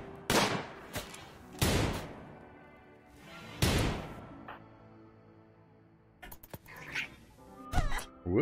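Game gunfire from a revolver and a rifle in RimWorld, several sharp separate shots spaced a second or two apart, each with a short decaying tail, plus a few lighter clicks near the end, with no talking.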